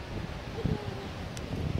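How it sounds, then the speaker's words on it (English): Gusty wind buffets the microphone with low rumbling noise, and a voice briefly sounds beneath it. "It is freezing. It's windy"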